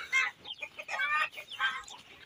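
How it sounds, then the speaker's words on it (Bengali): Farm chickens at a Saudi Arabian farm clucking in short bursty calls, several quick rising squawks in a row, close and clear with no talk. "এই যে মুরগি দেখতে পাচ্ছেন মাশাআল্লাহ"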